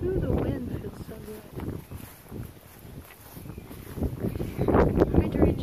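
Wind gusts buffet the microphone outdoors in a garden among blazing star and hydrangea plants, rumbling unevenly and swelling louder toward the end, with a voice talking over it.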